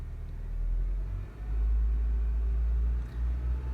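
A turbocharged Honda Civic R18 engine idles with a deep steady rumble, then swells as the throttle opens for a few seconds of revving before settling back.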